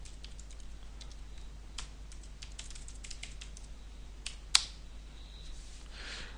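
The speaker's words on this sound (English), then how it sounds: "And I can't type my password." A password is typed on a computer keyboard in a quiet room, with soft, quick key clicks in scattered bursts and one sharper tap near the end.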